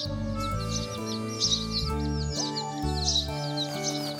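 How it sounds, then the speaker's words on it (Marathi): Cartoon sparrow chicks chirp in quick, high, repeated tweets over a looping background tune. "काही दिवसांनी चिमणीची पिल्लं मोठी झाली आणि उडायला लागली."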